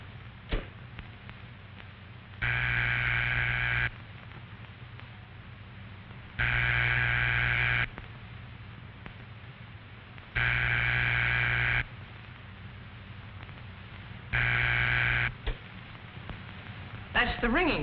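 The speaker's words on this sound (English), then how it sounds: "Soon after the last number is dialed, you will usually hear this tone." Ringback tone on a rotary telephone line after dialing: four evenly spaced buzzing bursts, each about a second and a half long, repeat over a steady low hum with no talking.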